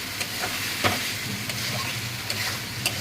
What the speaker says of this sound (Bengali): আস্তে আস্তে এবার এটাকে ভাজবো। তেল বেরিয়ে যাচ্ছে, দেখুন তেল বেরোতে এটা আস্তে আস্তে এগুলো কষাচ্ছি।